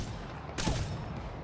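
A single longbow sniper rifle shot in Apex Legends cracks out near the middle, one sharp loud report over steady game ambience.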